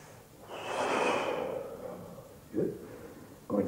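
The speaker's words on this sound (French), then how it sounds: "Respiration libre." A person breathes during an exercise session with a stick: one long, loud exhale through the nose, then two shorter sharp breaths, close to the microphone.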